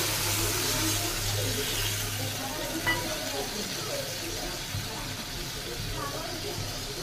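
Water goes into a pan of fish curry spice paste of cumin and coriander, made with potatoes and fish, and turns into a loud, continuous sizzle and bubbling that holds steady for several seconds.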